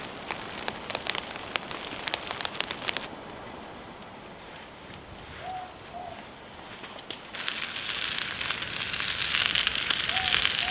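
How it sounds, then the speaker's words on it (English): Steady rain patters on a surface at a cold winter camp in the New Zealand mountains, growing louder toward the end, with a few sharper drips near the start and a faint bird call. "Sitting here listening to the rain,"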